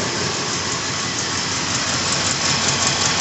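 A 1980 Triumph TR7 engine idling after being restarted, with a small exhaust leak noted, a steady even hum close by with no voices.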